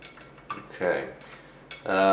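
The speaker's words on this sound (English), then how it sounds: "You kind of have to stir it up, give it a good vigorous stir" A chopstick stirs powdered film developer vigorously in a container of water, giving a few sharp clinking, scraping strokes in quick succession, close and fairly loud.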